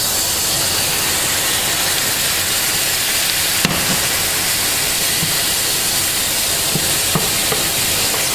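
Shrimp dropped into a pan with garlic and onion for coconut curry, a loud constant hiss and sizzle filling the whole stretch, with a few sharp utensil clicks and scrapes close by.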